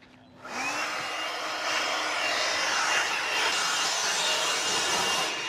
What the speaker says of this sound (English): Have blower, we'll travel.